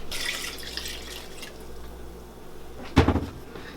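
Water splashes briefly as a can of crushed tomatoes is rinsed out while making tolma, stuffed cabbage leaves; a short, close burst of running water and clatter comes after faint, quiet kitchen background.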